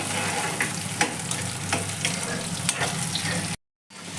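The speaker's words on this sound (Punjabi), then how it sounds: "ਇਹਨਾਂ ਨੂੰ ਹੁਣ ਆਪਾਂ ਨੇ ਚੰਗੀ ਤਰ੍ਹਾਂ ਫਰਾਈ ਕਰ ਲੈਣਾ ਹੈ ਜੀ" Round gourd (tinda) pieces fry in a pan, giving a dense steady sizzle with occasional stirring scrapes, close and loud, before a brief cut to silence.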